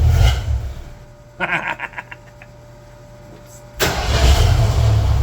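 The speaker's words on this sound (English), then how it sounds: "I don't know if this will rev up that well." A 1969 Ford Torino GT V8 engine revs after a cold start: a loud running rumble drops back, a string of quick throttle blips follows, then the engine surges loud again and holds.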